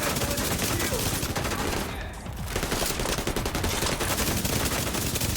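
Rapid hip-fire gunshots in The Division 2 with a backfire build stacking up, a dense continuous burst of shots that briefly dips before resuming loud and unbroken.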